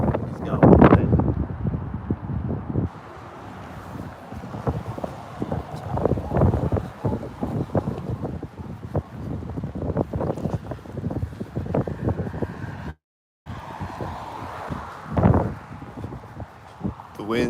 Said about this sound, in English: It just gets windy at intersections and things.